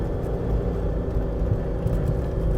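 A Mitsubishi Montero engine labours steadily in first gear while climbing a hill, a constant low rumbling drone heard from inside the cabin with no break.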